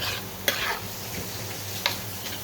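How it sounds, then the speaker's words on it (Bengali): A paste of turmeric, chilli, ginger and garlic is sautéed in a pan, giving a steady sizzle with two sharp utensil scrapes. "এটা একটু ভালোভাবে কষিয়ে নিই।"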